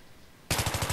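M4A1 rifle shots at long range in Battlefield 3 on Xbox 360 break a near silence with a sudden loud burst of rapid automatic fire, about half a dozen shots in quick succession.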